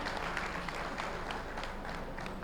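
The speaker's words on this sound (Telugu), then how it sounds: "ఈ మీటింగ్ ఒకసారి గట్టిగా క్లాప్స్ కొట్టుకుందాం మనం అందరం." An audience at a meeting in a hotel hall applauds, producing a dense, even wash of clapping that holds steady throughout at moderate distance.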